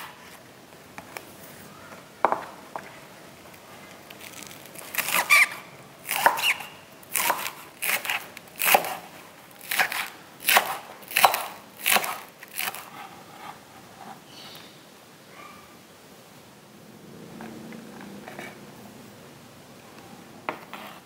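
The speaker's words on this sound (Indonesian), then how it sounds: "Daun bawangnya kita juga mau potong ya" Spring onions being chopped with a knife on a cutting board, a run of sharp, close knocks in quick irregular bursts, then a pause and a few softer taps.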